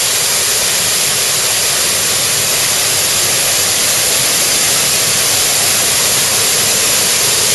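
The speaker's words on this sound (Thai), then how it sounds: "น้ำตกดาดโตนนี่ช่วงนี้น้ำใสเลยน้ำยังไม่มากเท่าไหร่" Steady, loud roar of Tat Ton waterfall in Chaiyaphum, Thailand, its broadband rush of falling water filling the whole stretch without pause and with no voices over it.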